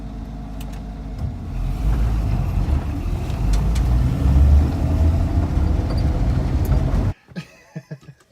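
A vehicle rolls along a gravel road off-road, a steady rumbling drive noise that continues for about seven seconds before cutting off into quieter scattered sounds.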